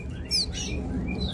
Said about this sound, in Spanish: Están muy bonitos los pajaritos estos.